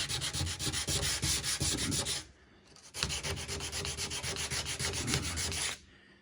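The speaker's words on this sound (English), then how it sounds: "So this is the step where I'll sand in these corners and remove" Sandpaper rubs hard against the corners of a wooden kitchen island in rapid back-and-forth strokes, two long close bursts separated by a brief pause.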